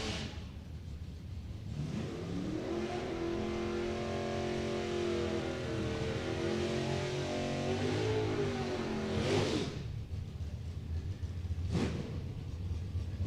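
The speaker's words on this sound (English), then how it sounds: "Jim Watson pulls his 63 Nova up. 6-cylinder machine, the V automatic" A 1963 Chevy Nova drag car with a six-cylinder engine and automatic transmission revs at the strip. The engine climbs and holds a strong rising tone, then cuts off sharply, with a second brief burst after that, heard moderately distant.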